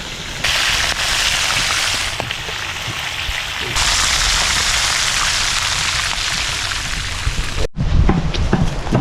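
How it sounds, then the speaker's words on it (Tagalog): Gourami fish sizzles and spatters in oil in a hot stainless pan, a loud, dense crackle running steadily before a brief cut and a burst of sharper pops. "Guys, prito na natin itong gurami."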